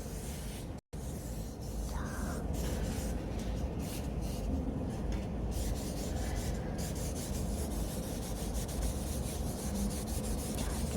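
Steady, continuous scratchy rubbing of charcoal across paper, close and fairly loud, with no voices, while shading wood-grain texture in a still-life drawing.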